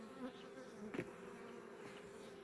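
Honey bees buzzing around an open hive during a spring inspection, a continuous low drone with individual bees passing close by, fairly quiet and with no talking.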